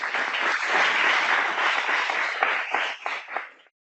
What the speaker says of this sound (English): So one more round of applause, please, for our panelists.